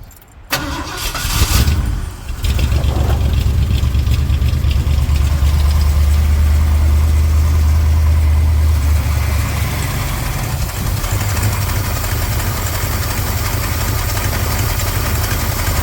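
A truck engine running on a makeshift gas tank cranks over, catches after a couple of seconds and settles into a loud, steady, rumbling idle close by that carries on with a slight dip in pitch, without anyone talking.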